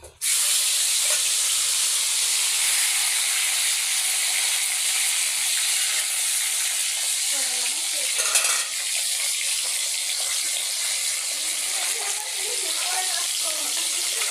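Bata fish frying in oil in a pan, a loud steady sizzle and hiss that runs unbroken from start to finish with a brief flare of spitting midway.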